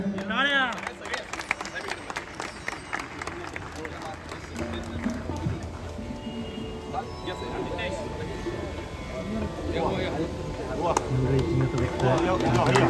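An audience at a Diwali bhajan gathering claps to honour a guest, with a dense patter of applause continuing under someone speaking over it.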